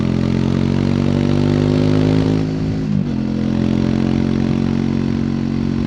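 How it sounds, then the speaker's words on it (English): A 2024 Triumph Speed 400 single-cylinder motorcycle runs on the road, its engine giving a steady, loud, throbbing drone with a brief dip in revs midway, heard up close with no talking. "I love the sound of the engine."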